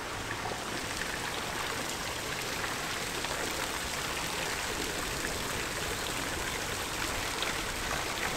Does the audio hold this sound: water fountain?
yes